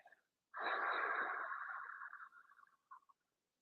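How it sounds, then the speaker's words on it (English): A long, audible open-mouth exhale during a gentle yoga breathing exercise: a close, soft breathy rush with a faint voiced edge, lasting about two and a half seconds after a brief quiet breath. "On your exhale, open your mouth and make maybe just like a little bit of sound."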